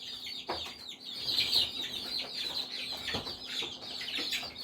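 Newly hatched chicks peep and cheep softly in an incubator, a steady stream of high chirps layered with occasional clucking, faint and continuous with no talking.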